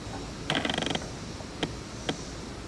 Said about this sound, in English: Let me know if you can hear the focus noise from the focus motor.